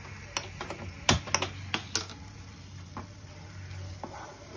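Suji halwa with gond stirred and sizzling in a kadai over a high flame, with sharp scraping and clicking stir strokes in a burst of several hits, then a softer steady sizzle.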